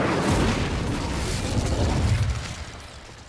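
A fiery Incendio spell bursts in Hogwarts Legacy, a loud, broad whooshing blast that roars steadily for a few seconds and then fades, with no voices over it.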